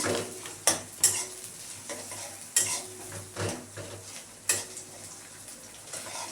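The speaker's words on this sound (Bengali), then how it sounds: "পেঁয়াজটা ভাজা হয়ে এসছে" Onions sizzle softly in a pan, broken by several sharp scrapes and clinks of a utensil against the metal, no speech.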